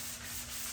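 A fine sanding sponge rubs along a truck body being prepped for bedliner paint, a steady close scraping swish running through the whole moment, faint and uninterrupted.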